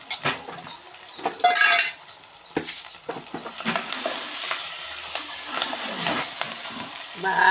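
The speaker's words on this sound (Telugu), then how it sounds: "ఇప్పుడు చిన్నగా కట్ చేసుకుని మెంతికూర వేస్తున్నానండి." Chopped fenugreek leaves drop into frying mutton curry, bursting into a loud sizzle while a utensil scrapes and stirs the pan, with clinks early on and a steady frying hiss building afterward.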